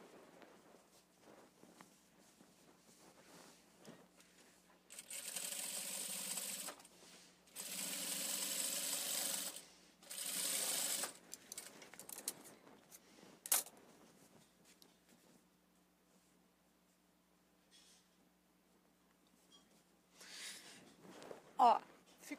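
A sewing machine runs in short loud bursts as it stitches a seam on fabric for a Christmas table decoration, three or four stretches of whirring separated by quiet handling noises.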